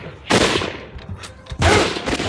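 Gunfire in the video game Shellshock 2: Blood Trails, two loud bursts of automatic fire close by, separated by a brief lull with faint extra shots.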